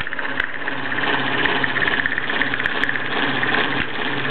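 A Bowman E158 model steam engine runs steadily after warming up, its rapid mechanical chuffing and whirring forming an even, close, continuous drone with a few faint clicks from the line shaft setup.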